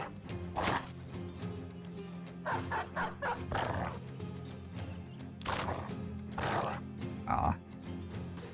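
Dogs bark in Battle Brothers, the medieval mercenary strategy game: several sharp, loud bursts come in irregular clusters over a steady low game hum, some in quick runs of three or four.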